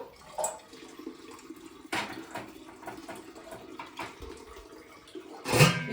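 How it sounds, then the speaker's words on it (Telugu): Tamarinds are rinsed in water by hand, with splashing and sloshing that rises in short bursts and a louder pour or splash at the end, close up and with no talking. "కొంచెం నీట్గా కడుక్కొని మంచి నీళ్ళు వేసి ఉడకబెట్టుకుంటాను"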